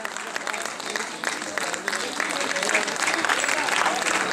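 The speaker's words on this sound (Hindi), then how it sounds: "जब तक सम्मान होता रहेगा तालियां बजती रहेगी।" Audience applause at an award ceremony honouring participants and a singer on Savitribai Phule's birth anniversary, a steady dense clapping from a crowd that swells slightly and holds loud throughout.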